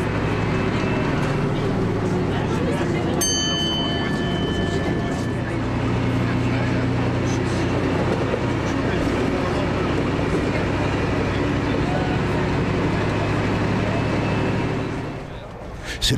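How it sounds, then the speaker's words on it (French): Diesel engine of a Picasso railcar rumbles steadily and loudly throughout, a continuous low drone with faint high tonal whines, no talk over it. "avec ses changements de vitesse et surtout le ronflement du moteur"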